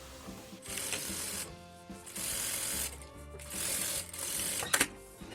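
A sewing machine stitches a straight seam on fabric for an expansible-bottom toiletry pouch, in several short close bursts of rapid needle clatter with brief pauses between them, and no talking.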